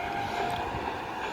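A passenger express train, the Cholan or Rameswaram Express, rumbles steadily past Tirunageswaram railway station in India, a continuous loud broadband roar of wheels and carriages with no pauses across the short stretch.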